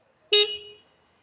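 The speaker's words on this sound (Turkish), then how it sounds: "Ve aracımızın olmazsa olmazı kornamız." A single short horn honk from a Bajaj Pulsar NS 200 motorcycle, sharp and fairly loud, with a brief ringing tail that fades within half a second.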